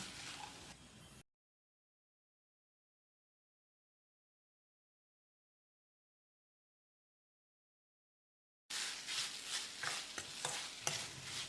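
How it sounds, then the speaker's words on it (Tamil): Chicken sizzles and scrapes in a pan as it is stir-fried over low heat, heard briefly at the start and again after a long silent gap. "குறைஞ்ச தீயிலேயே ஒரு 2 நிமிஷம் நல்லா பிரட்டி விடணும்."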